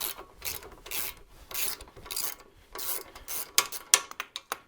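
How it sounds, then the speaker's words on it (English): A ratcheting wrench with 1/2 inch drive works a fender bolt on a Harley-Davidson Sportster, giving close, repeated rasping strokes that end in a quick run of sharp, distinct clicks, with no talking. "Then a 1/2 inch drive wrench on the back. I have a ratcheting wrench."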